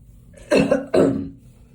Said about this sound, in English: that stuff is making me cough.